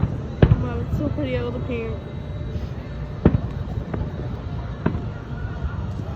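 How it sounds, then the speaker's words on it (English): Fourth of July fireworks burst outdoors as a few sharp, distant booms spaced seconds apart, with faint whistles rising between them, while people nearby talk over the show. "I think these fireworks are going to go on for 30 minutes"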